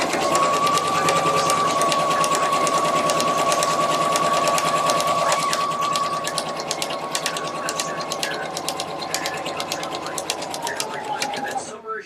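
Sewing machine stitching fabric for a Victorian evening dress, running close and loud as a rapid, steady needle clatter with a constant motor whine for about twelve seconds, easing slightly near the end.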